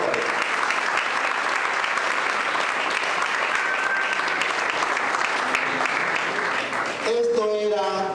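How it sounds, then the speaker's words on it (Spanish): A church congregation claps in a loud, steady burst of applause that fills the room for several seconds, before a voice begins speaking at the end. "Vamos a brindar un aplauso al Rey de Reyes y Señor de Señores."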